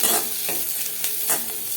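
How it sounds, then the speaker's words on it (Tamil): Green chillies and curry leaves sauté in a pan with a steady close sizzle, broken by a few soft scrapes of stirring about every half second. "இப்போ இந்த பச்சை மிளகாலாம் போட்டு நல்லா வதக்கியாச்சு."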